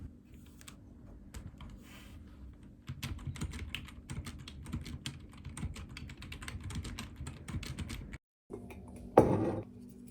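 Fast, steady typing on a computer keyboard, with dense rapid key clicks close by for several seconds, a brief pause, then a louder clatter near the end; nobody speaks.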